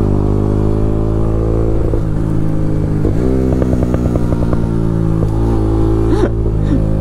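A Bajaj Pulsar RS 200 BS6 motorcycle engine running steadily nearby, a loud continuous throbbing idle with a brief rev and rhythmic pulsing in the middle, no voices.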